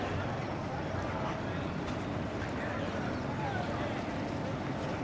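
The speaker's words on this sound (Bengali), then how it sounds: "বোট ছাড়ছে" Boat leaving Tulsi Ghat on the Ganges: a steady, broadband rumble and wash of water and engine noise, constant and fairly faint throughout with no clear breaks.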